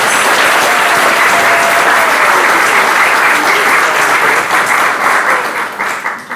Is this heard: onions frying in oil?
no